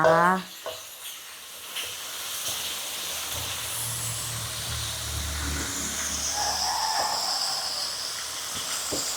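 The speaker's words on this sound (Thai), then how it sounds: "ใส่หมูลงไปผัดให้สุกนะคะ" Pork stir-fried in a pan for a Thai dish of stir-fried greens with sun-dried pork, giving a steady hiss and sizzle close by for the full length, with a louder clatter at the very start.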